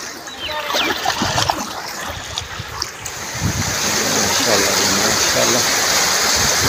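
Flowing river water rushes and splashes steadily, a broad continuous wash that grows louder and fuller in the second half, with people's voices and bathing activity mixed in early on.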